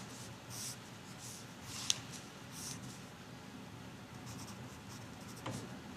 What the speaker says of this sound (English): So I would like you to draw this one in your notebook